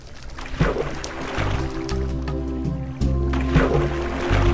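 Boat moving through water in a survival island video game, a continuous low watery churn and lapping with soft splashes and game sounds.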